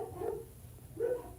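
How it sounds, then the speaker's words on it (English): Two short bursts of dog barking sound at a middle distance, one early and one near the end, over a low background hum with no talk. "my dogs are barking"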